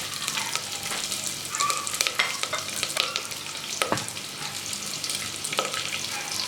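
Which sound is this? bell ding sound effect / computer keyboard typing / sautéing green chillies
sautéing green chillies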